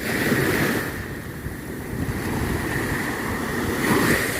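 Ocean waves washing into La Piscina bay in Tayrona National Park, Colombia, a soft rolling surge that swells and recedes in slow cycles, with some wind noise over the steady wash.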